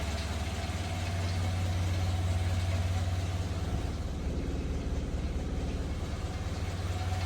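A Renault 5 TC engine idles steadily with a low, even rumble throughout, smooth and continuous with no voices, after an exhaust repair.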